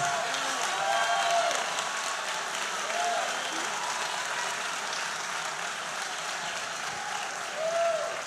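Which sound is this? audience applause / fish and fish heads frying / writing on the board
audience applause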